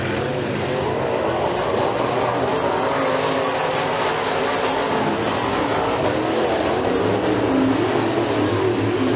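Race cars at McKean County Raceway during heats roar down the back straightaway, a dense continuous engine drone that stays loud throughout with faint commentary beneath.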